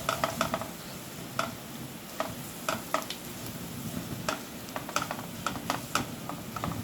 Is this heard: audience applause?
no